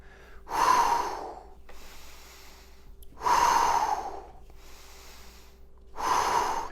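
Heavy breathing during a home workout exercise: three loud, drawn-out breaths spaced about every three seconds, each a rough airy exhale with quieter gaps between, close and alone with no talk.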